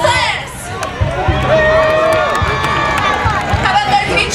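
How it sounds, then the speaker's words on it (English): Crowd at a medieval fair cheering and shouting for the fighters, a loud continuous roar of voices with whoops and yells rising and falling over a few seconds. "Which part of the audience is cheering for all the players?"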